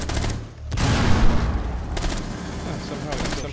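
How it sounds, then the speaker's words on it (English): Gunfire in the Rainbow Six Siege beta during a team deathmatch bomb round on the House map: loud, close bursts of rapid shots separated by brief pauses, with a voice partly under the shooting. "Somehow he still shot me."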